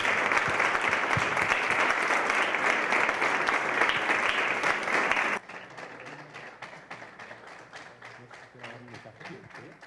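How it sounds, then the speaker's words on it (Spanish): Audience applause at a student federation congress in a hall, a dense, sustained wash of clapping that drops sharply partway through and thins into scattered, fading claps. "Un fuerte aplauso para él, por favor."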